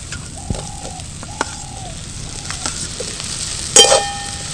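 Boiled potato drops into a pan of Kashmiri chilli spice mix, a soft frying sizzle broken by a few scraping stirs and a sharp metallic clink near the end, with no talking.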